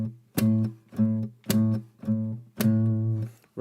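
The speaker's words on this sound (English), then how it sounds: "I'm kind of slapping the guitar like this to get that snare sound" An acoustic guitar is strummed in a steady groove while the strings are slapped on the backbeat for a percussive snare-like crack, with five sharp hits ringing out over sustained chords.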